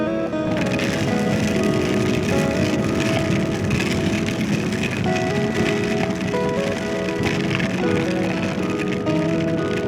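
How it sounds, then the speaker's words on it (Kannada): First monsoon rain of the year drumming steadily and loudly on surfaces, a dense, continuous patter with no talk across the whole stretch. "ಮೊದಲ ಮಳೆ"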